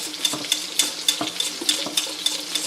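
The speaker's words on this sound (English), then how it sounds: "we're just basically going to whisk this butter and cream cheese" A whisk beats butter and cream cheese in a pan for fettuccine Alfredo, with steady metallic scraping strokes about every quarter second, close and moderately quiet, with no talking.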